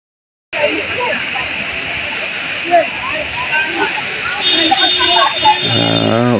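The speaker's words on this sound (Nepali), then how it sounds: "गुफा झरना माथिबाट आएको पानी हो यो झरना" Jhor cave waterfall at Baudeshwor Mahadev in Tokha, a loud constant rush of falling water close by, with a few brief voices over it near the end.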